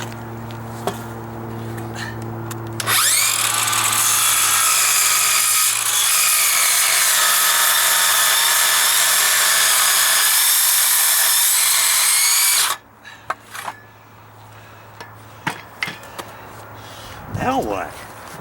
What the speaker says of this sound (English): Now I'm going to cut this one.